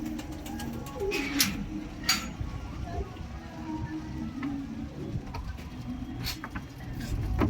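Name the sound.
pigeons cooing in loft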